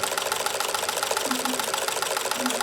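A sewing machine stitching fabric with a walking foot attachment, giving a steady, even mechanical whir with a soft repetitive clatter that runs continuously and close by, with no voices.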